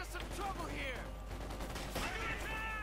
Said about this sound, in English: plus Pat Carter's firing into support here as well